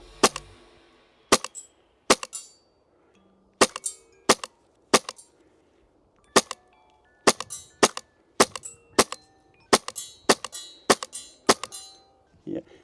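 Airsoft gun shots from an HPA or AEG rifle fired outdoors, sharp dry cracks in single and paired bursts spaced irregularly, with quiet gaps and faint talk between.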